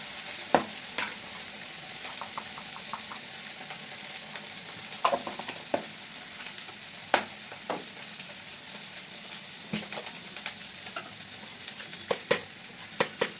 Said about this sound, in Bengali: খুঁড়ি ভাজা হচ্ছে, খুঁড়ি ভাজাতে নুন দিয়ে দেবো